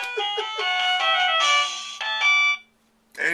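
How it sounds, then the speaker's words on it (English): A Chinese wireless doorbell plays a bright electronic rendition of the Carmen opera melody, a rapid series of tonal chime notes for about two and a half seconds, then a pause before a voice briefly speaks. "you could have an opera every time somebody rings the doorbell"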